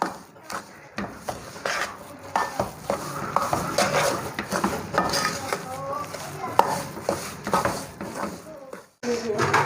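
Flax seed laddoo mixture being stirred with sugar syrup in a pan, village style: steady scraping and metallic clinks of a spoon against the pan, continuous throughout with a brief pause near the end.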